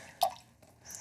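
Water from a reverse osmosis filter housing drips once, a single close, sharp drop, followed by a faint trickle of draining water in a quiet room.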